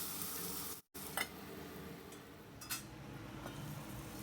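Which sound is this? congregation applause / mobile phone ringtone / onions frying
onions frying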